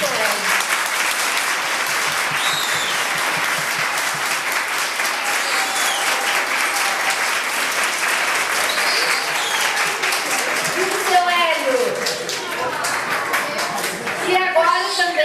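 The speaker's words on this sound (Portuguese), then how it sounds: "uma salva de palmas" Sustained audience applause and clapping at the inauguration of a community soup kitchen, loud and steady throughout, with a few voices and children audible near the end.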